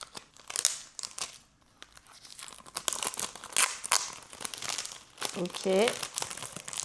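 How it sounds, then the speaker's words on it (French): Plastic blister wrap on a CD case being torn and peeled open, close crinkling and crackling in uneven bursts, with a person speaking briefly over the handling. "ça fait bizarre d'ouvrir une boîte de CD"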